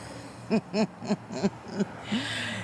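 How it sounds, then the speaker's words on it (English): A short series of hooting, chirpy bird calls, about six spaced notes, fairly close, followed by a soft breathy hiss. "listening to the birds chirping"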